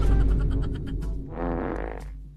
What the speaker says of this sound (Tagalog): Umutot ako.